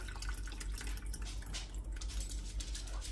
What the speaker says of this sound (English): I am just going to pour in the juice so I get 1 cup full